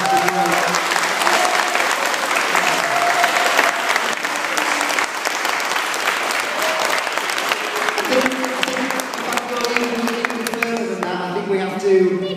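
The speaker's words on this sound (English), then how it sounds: "So if you could give a round of applause to the guys." Sustained, loud crowd applause at York City football club's victory parade, thick clapping throughout with a voice talking over it near the end.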